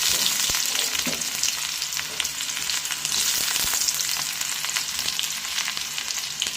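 Mustard seeds and shallots frying in hot oil make a loud, dense, constant sizzle with faint crackles and pops throughout, no voices.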